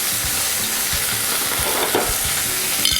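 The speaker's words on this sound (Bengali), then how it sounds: "রসুন বাটাটা দিলাম" Garlic paste sizzles and fries in hot oil for hilsa biryani, a loud, constant crackling hiss close by with soft periodic stirring scrapes and no voices.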